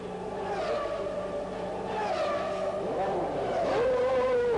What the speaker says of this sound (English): Here's Ayrton Senna's tyre stop, a record 5 seconds stationary.